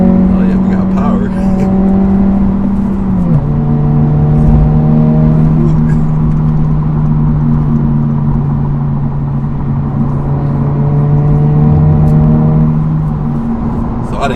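A 2022 Honda Civic Si engine hums and drones from inside the cabin during a test drive, pitch stepping with gear changes under steady road rumble, while people talk over it.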